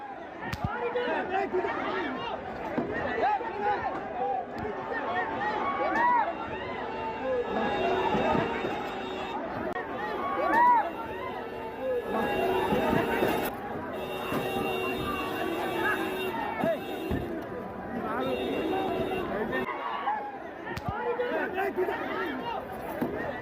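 A dense crowd presses and clamours around actress Nidhi Agarwal at Lulu Mall in Hyderabad, with continuous overlapping shouts and babble and scattered sharp bursts throughout.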